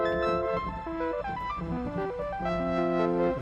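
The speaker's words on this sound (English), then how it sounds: "This nice kind of dreamy synth sound" A dreamy synth plays a slow melody of sustained tonal notes, layered chords shifting in steps, soft and smooth throughout with no voices.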